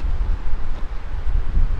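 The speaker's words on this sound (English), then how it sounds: "it's way too windy" Strong wind on the coast at Clearwater, Florida buffets the microphone with a loud, gusty low rumble throughout the short stretch.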